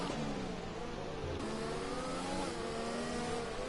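Williams and McLaren Formula 1 cars racing side by side in a video game at the Chinese Grand Prix circuit, engines whining loudly with rising and shifting harmonic pitches, a continuous close, dense roar throughout with no talk.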